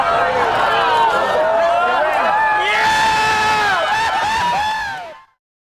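A large crowd at a total solar eclipse erupts in sustained cheering, whoops and high screams, loud and continuous for about five seconds before cutting off abruptly.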